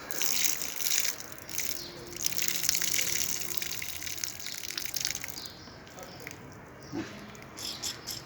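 Water gushes steadily as it is poured over freshly planted bean seeds in a garden bed, a close, continuous splashing flow that fades near the end.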